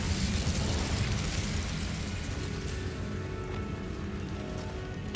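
Incendio fire spell cast in Hogwarts Legacy, a dense, roaring burst of flame with a crackling, rain-like hiss that starts loud and thins slightly over several seconds, no voice heard.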